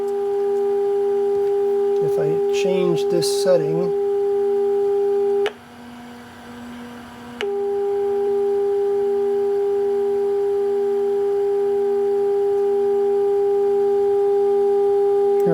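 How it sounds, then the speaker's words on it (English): The speaker of an HP 8561E spectrum analyzer gives a steady, pure, buzzy electronic tone that cuts out briefly and then resumes unchanged, while someone talks over its opening seconds. "You can hear that tone right now."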